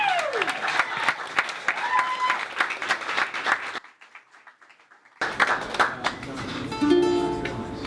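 Scattered audience applause at a comedy club show for a musician taking the stage, a few claps amid crowd noise that drops away to near silence midway, then clapping and stage sounds return.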